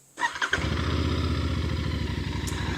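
A Royal Enfield Bear 650 motorcycle engine cranks briefly and fires up, settling at once into a steady, close, low rumbling idle with rhythmic exhaust pulses.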